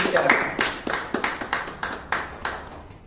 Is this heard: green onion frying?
no